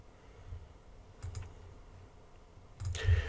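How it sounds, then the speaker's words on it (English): A few computer clicks while an FBA fee calculator is opened online, two or three soft close taps with a slightly louder click cluster at the end, no talking. "I'm going to click on the FBA fee calculator."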